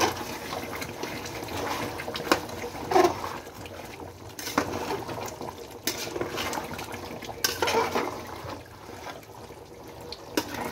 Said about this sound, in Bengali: এবার একটু নাড়া দিয়ে তারপর আবার ঢেকে দিতে হবে